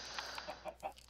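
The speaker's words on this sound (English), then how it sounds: "those few chickens got left behind" A few farm chickens clucking in short, faint bursts, four or five soft clucks with no voices.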